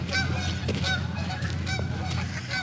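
Several geese or ducks honk and call loudly at close range by a lake house, with wings and splashing from birds coming in to land on the water.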